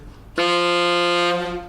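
One sustained saxophone note played with an "ah" vowel mouth shape, steady and fairly loud, starting abruptly and holding for about a second before a slight fade.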